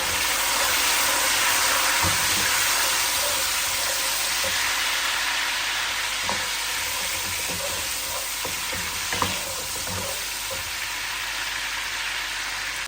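Chopped tomatoes dropped into onions already frying in a pan for an aloo matar curry, giving a steady loud sizzle with occasional stirring clicks and small pops throughout.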